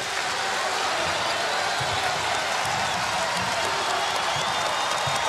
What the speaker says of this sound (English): This crowd is finally getting back into the game